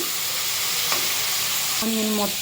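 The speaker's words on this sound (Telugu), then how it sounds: "ఆయిల్ బాగా కాగిన తర్వాత దాంట్లో ఆనియన్స్ వేసుకోవాలి. ఆనియన్స్ వేసిన తర్వాత కొంచెం కలుపుకోవాలి." Onions sizzling in hot oil in a pan for a curry, a steady close frying hiss with a couple of brief scraping sounds as they are stirred.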